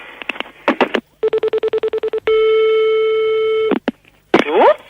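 Landline telephone tones during a French prank call: a quick burst of dialing beeps, a run of rapid pulsed tones, a long steady tone, then clicks and brief voice fragments as the line connects.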